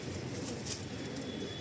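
Thin, slender Malwai pigeons, both adults and young, coo softly and repeatedly in a loft in the evening, a low murmuring under a steady hiss of background noise.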